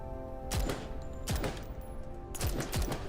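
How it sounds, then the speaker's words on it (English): Video-game gunfire in Girls Frontline 2 as a lock is shot open: three punchy bursts of shots ring out over a steady electronic music bed. "With the burst of gunfire, the lock is penetrated by the bullets."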